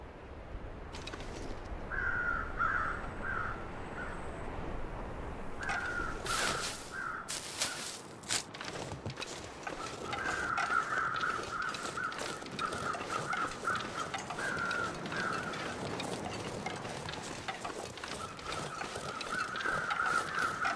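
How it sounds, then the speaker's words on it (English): Crows caw repeatedly from a short distance in The Long Dark, circling a corpse, their harsh calls coming in bursts over a steady windy wilderness ambience, with a few sharp clatters. "those are crows circling a corpse"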